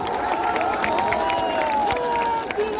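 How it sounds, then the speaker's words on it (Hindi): Crowd at an outdoor political rally in Raniganj, Pratapgarh, claps and cheers steadily throughout, a dense wash of applause with a sustained tonal drone running beneath it. "सभी लोग ताली बजाइए"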